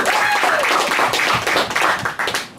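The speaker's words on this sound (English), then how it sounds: "please, you need to give her a warmer and round of applause." Keynote audience clapping in a hall, a fairly loud, uneven wash of applause with faint voices and a whistle-like tone early, thinning toward the end.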